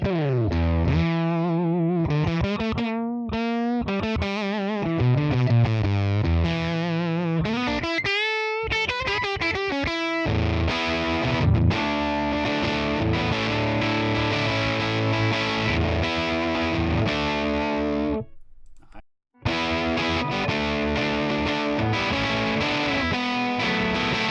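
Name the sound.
electric guitar riffs through fuzz pedal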